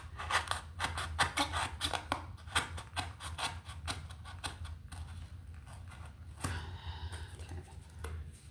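Scissors or a blade snip out a piece of cardboard in a run of quick, crisp cuts, then slower scraping strokes, close and quiet with no talk.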